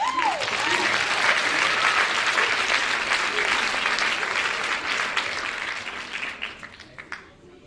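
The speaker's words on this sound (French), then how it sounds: "Allez, on applaudit!" A crowd applauds at a high school talent show after a student's original piece is introduced, a loud dense burst of clapping that gradually thins and fades toward the end.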